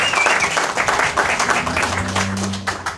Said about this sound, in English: let's give Erica a round of applause.